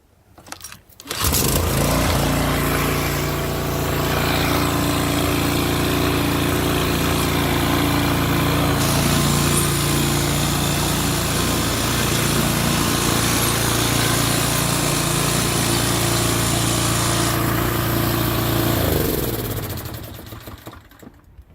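Toro TimeMaster walk-behind lawn mower engine starts up and runs at a steady loud drone for nearly twenty seconds before cutting off, close and constant with no speech over it.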